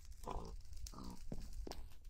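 Pigs in the Minecraft video game give several short grunting oinks in an irregular series, close and fairly quiet, with no one speaking.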